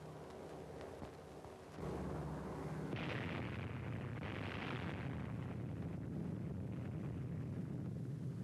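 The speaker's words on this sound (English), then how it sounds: "The fourth atomic bomb has been successfully detonated." Atomic bomb detonation from the Operation Crossroads test, a sudden deep roaring blast that swells into a sustained rumble with surging waves, heard on old footage with a steady background hiss.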